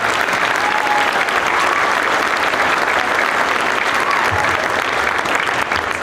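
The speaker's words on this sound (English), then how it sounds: "So one big round of applause for our custodial staff." Sustained, dense applause from an audience in a high school gym, honoring the custodial staff at an all-city band concert, steady and loud throughout with no pause.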